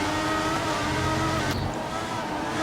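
Race cars in a sim racing league event at Austin hold a steady, loud engine drone. Partway through the pitch drops as a car shifts or passes.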